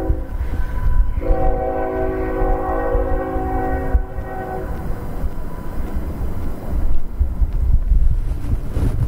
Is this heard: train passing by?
yes